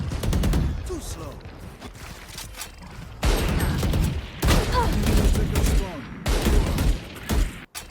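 Rapid gunfire fills a shooter video game match, including shots from a Marshal sniper rifle, with loud bursts and repeated cracks in several waves against a busy background of game effects.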